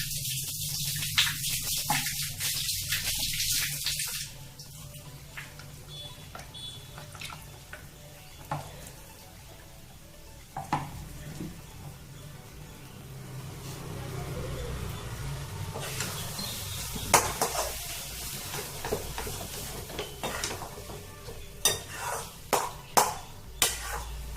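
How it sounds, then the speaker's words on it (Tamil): Eggplant kothsu, a traditional Chidambaram side dish, being stirred and sautéed in a pan, with scraping and clinking utensil hits spread across a soft background sizzle, growing busier with sharper knocks toward the end. "நல்லா பச்சை வாசனை போக வதக்கிக்கலாம்"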